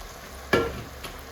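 A spoon scrapes through okra tamarind curry (vendakkai kara kuzhambu) in a pan, with one clear, close stirring stroke followed by a fainter second scrape against a quiet background.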